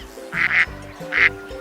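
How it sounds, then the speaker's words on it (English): Three short nasal duck quacks, two in quick succession and one after a pause, over a steady low hum. "Duck."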